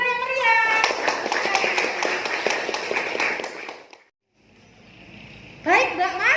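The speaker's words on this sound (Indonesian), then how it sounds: "Tepuk tangan yang meriah" An audience applauds after a group presentation in a classroom, a steady patter of many hands that cuts out abruptly, then a voice speaks over the room.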